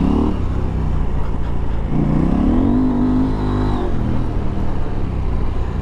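KTM 890 Adventure R Rally motorcycle fitted with a Wings exhaust, revving up and down close by with a steady, loud engine drone and a rising pitch sweep in the middle.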